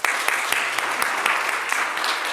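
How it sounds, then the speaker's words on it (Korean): A church congregation claps in thanks and encouragement during Sunday worship at Bloomington Korean Church, a brief, steady burst of many hands with a few sharper claps standing out. "우리 감사의 인사 그리고 격려의 인사로 박수하겠습니다"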